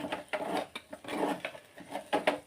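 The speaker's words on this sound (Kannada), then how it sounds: "ಸೊ ತಿರುತ್ತಾ ಇರಿ" A utensil scraping and clinking against a pot while buttermilk curry ingredients fry, in irregular repeated strokes, close and moderately loud, with no talk.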